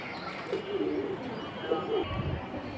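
Soft, low coos from a pair of fancy pigeons repeat a few times over a steady background murmur, fairly close and moderately loud.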